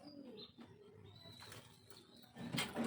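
A pigeon under treatment for swollen eyes and a runny nose gives soft, low coos close by, with a few faint chirps and rustles in between and a short louder burst near the end.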